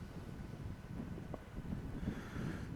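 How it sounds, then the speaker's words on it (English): Wind gusts across the infinity pool area of Divi Little Bay Beach Resort on St. Maarten, a low, fluttering rumble buffeting close to the microphone in uneven bursts, with no talking over it. "it's kind of windy."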